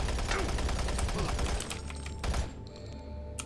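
Rapid video game gunfire rattles in dense bursts over the first half, then thins to a few scattered shots and fades, fairly quiet overall.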